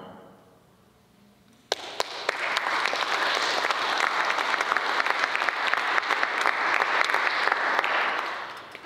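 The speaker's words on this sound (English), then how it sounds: "That we should be clapping for." Sudden burst of loud, sustained applause from a large convocation lecture audience after a quiet moment, many hands clapping densely and steadily.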